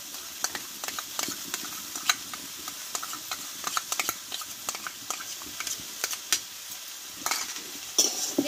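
Fried mung dal is stirred and fried in a pan with spices and sugar, a close, steady sizzle broken by frequent scraping and clinking strokes of the spoon.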